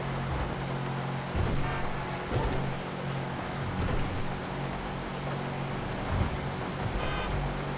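Steady rain hiss in GTA 5 during a rainy race in a normally banned car, a broad wash of noise with low engine drone and a few brief thumps over it; no voices.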